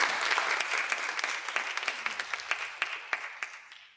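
An audience at a round-table literary talk applauds, giving dense, steady clapping from a room full of people that slowly thins and fades out.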